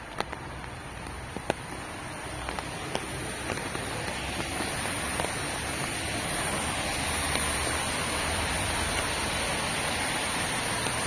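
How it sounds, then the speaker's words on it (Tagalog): Steady hiss of falling rain outdoors at a bus stop in the early morning dark, with scattered sharp drips and taps, continuous and fairly loud throughout, no talking. "Lalo't umuulan."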